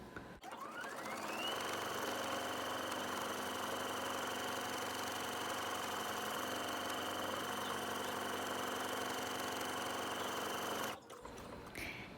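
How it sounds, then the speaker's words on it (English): Sewing machine running steadily while stitching buttonholes on a woven spring jumper, a continuous close motor whir with a rising tone at the start, lasting about ten seconds before stopping. "I'm going to take it over to my other machine, and I'm going to start adding the buttonholes"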